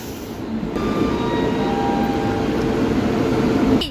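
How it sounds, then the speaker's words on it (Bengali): A train from Howrah pulls into Bangalore SMVT railway station, a loud continuous rumble of wheels and carriages with faint squealing tones, close by and unbroken, with no talk. "ট্রেন ঢুকছে"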